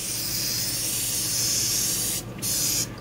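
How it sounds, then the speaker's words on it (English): A steady, close hiss of aerosol spray oil onto a beehive varroa sticky board runs for nearly three seconds, broken once by a brief pause before spraying resumes. "spray the board."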